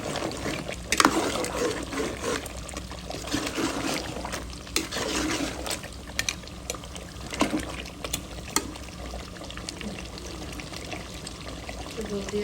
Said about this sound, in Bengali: দুধ দিয়ে দিব সিদ্ধ হওয়ার জন্য।